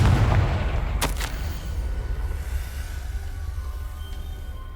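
A Confringo blasting spell goes off in the Hogwarts Legacy video game: a heavy booming burst at the start, then a sharp crack about a second in, fading into low rumbling ambience.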